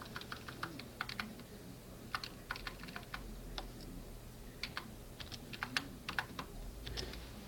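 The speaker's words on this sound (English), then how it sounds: "as we're typing on the editor" Quiet, irregular typing on a computer keyboard while coding in TempleOS, clusters of light key clicks with short pauses between, close and alone.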